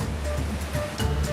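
A powerful waterfall in Uganda forces water through a narrow rocky gorge, producing a loud, steady, broadband roar that holds without a break and carries no voices.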